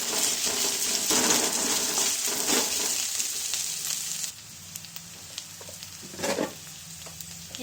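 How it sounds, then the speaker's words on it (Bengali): Shrimp sizzle and crackle in hot oil in a pan as cumin powder is stirred in, with scraping stir strokes over a bright fry that quiets partway through, then a few more close spatula scrapes. "এরপর এটা আমি একটু নেড়ে নেব।"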